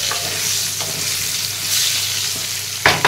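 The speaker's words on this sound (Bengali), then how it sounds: "চিকেনের আলু ভাজা হচ্ছে" Potatoes for chicken curry sizzle steadily in hot oil, a close, continuous crackle with faint stirring and a couple of sharp scraping knocks near the end.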